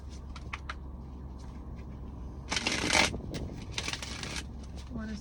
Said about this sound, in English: 2 more shuffles for the collective